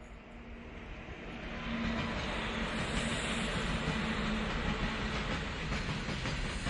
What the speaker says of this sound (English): Train pulled out of the station.